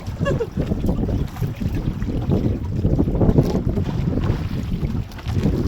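Steady roaring wind buffets the microphone over open water while fishing, with a boat's rumble and low gusts rising and falling throughout.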